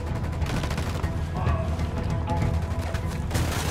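Gunfire rattles in Ghost Recon Wildlands, dense overlapping bursts and booms at a loud, constant level with no pauses, like a firefight aimed at an emitter.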